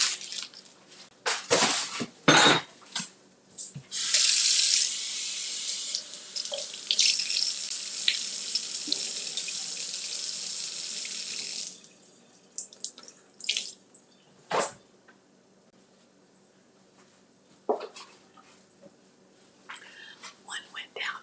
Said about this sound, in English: let me rinse these off and dry them off